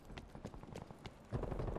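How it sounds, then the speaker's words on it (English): Rapid, evenly spaced footsteps from a Black Ops Cold War multiplayer match, loud and close, with thudding steps that rise in force toward the end. "I just can't believe how loud footsteps are in this game."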